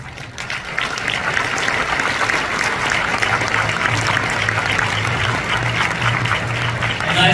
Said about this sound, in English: Let us give once again another big round of applause to President Natalia Kusenko.